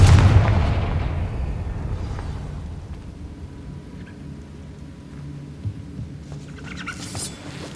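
A Confringo fire-blast spell bursts open with a loud, deep boom at the very start in Hogwarts Legacy, then rumbles and fades into a low, steady background for the rest of the stretch, with no talking.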